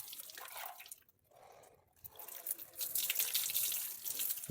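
Water poured over the left shoulder during a bath, uneven splashing and dripping close by, with a brief near-silent gap before the pouring resumes and grows louder.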